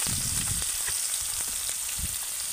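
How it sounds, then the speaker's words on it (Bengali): Chopped onion frying in hot oil for a Bengali young jackfruit curry, a steady close hiss of sizzling with faint stirring scrapes, no voices. "পেঁয়াজটাকেও আমি তেলের সাথে হালকা করে ভেজে নেব।"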